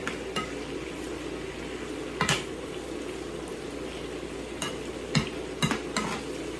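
Squash and garlic sautéing in a pan, a steady soft sizzle broken by a few sharp stirring scrapes and clatters of a utensil against the pan.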